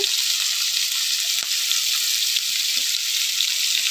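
Potatoes seasoned with salt and turmeric fry in a pan with a constant, dense sizzle, close and fairly loud, with a few faint stirring clicks and no voices.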